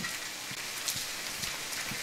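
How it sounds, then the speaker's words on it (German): Steady rain in the survival game The Forest, drumming hard and close as if on a tin hut roof, with a constant hiss and scattered heavier drops landing at irregular intervals, no voices. "es hört sich immer noch so an mit dem Regen, als wenn man in eine Blechhütte wäre"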